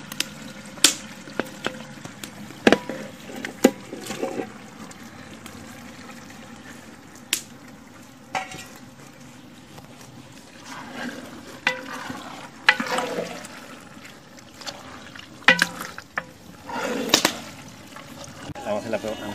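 Meat sizzles and fries in a hot cooking pot, with scattered sharp scrapes and knocks of stirring over a steady crackling bed, close and moderately loud.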